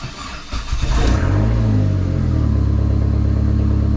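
A Dodge SRT4 cranks briefly, then its engine catches and settles into a loud, steady, close rumbling idle, with no talking.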